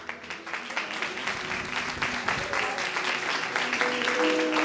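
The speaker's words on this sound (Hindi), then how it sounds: "जोरदार तालियां, जोरदार" A crowd at a church sermon gathering claps steadily, a dense burst of applause that swells and holds throughout, with faint voices mixed underneath.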